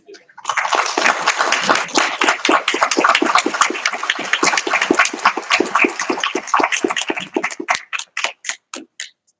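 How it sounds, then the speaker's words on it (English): Applause for teachers and principals standing at a school board meeting, a dense burst of many hands clapping that fills the room, then thins into a few scattered, separate claps as it dies away. "if you please stand so we can give you a round of applause and some thanks for the hard work you've been doing"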